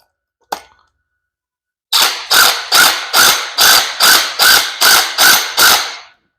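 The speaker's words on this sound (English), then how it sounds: "Now we put our acorn nut back on. I'll start that with my socket here" Ratchet socket turning an acorn nut down during a high force ram reseal: one isolated click, a pause, then a rapid series of about ten sharp, loud, evenly spaced ratchet clicks, close up and with no voices.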